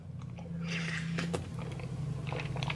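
Shrimp cocktail with crab meat and lobster being eaten up close, a few soft bites and wet chewing sounds over a low background hum, with no talking.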